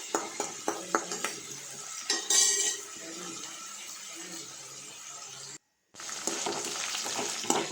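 Green chillies and other ridge gourd chutney ingredients sauté over a low flame, with a soft continuous sizzle under quick clinks and scrapes of a spatula against the pan, a brief silent gap, then more stirring.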